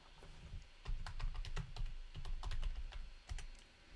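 Quick irregular keystrokes tap on a computer keyboard while a username and password are typed, close and fairly quiet, with a few brief pauses between bursts of clicks.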